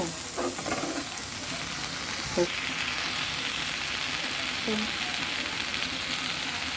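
Food sizzles and fries steadily in a pan, with occasional scraping stirs and no voices.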